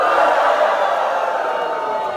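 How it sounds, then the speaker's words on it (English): A crowd of people cheers and whoops together, a loud, dense burst of mixed voices that holds steady and close for a couple of seconds. "And then you guys can all cheer at the end."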